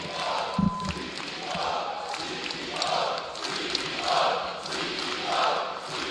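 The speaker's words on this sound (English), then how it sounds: "I need to hear the crowd go crazy." Crowd at an Apex Legends esports watch party cheering and shouting, a dense roar that swells in several waves over a few seconds, moderately loud and distant-sounding with no clear speech.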